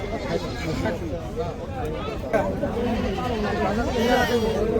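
Goats bleat amid the busy crowd of a cattle market in Ashulia on the Turag riverbank, with repeated wavering calls mixed into constant close chatter and voices.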